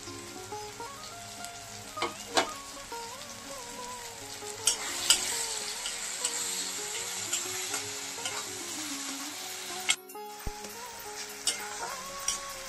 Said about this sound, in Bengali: ভালো করে কষিয়ে নেব। একটু লঙ্কা কুচি দিয়ে দিলাম।